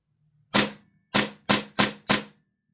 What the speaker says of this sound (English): So we're gonna have a look at the blowback now.